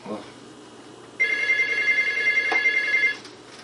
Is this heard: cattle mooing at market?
no